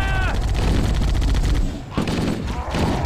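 Weapons firing in a Halo: Combat Evolved match, a loud, dense burst of rapid gunshots that drops out briefly near the middle before resuming, with a faint voice mixed underneath.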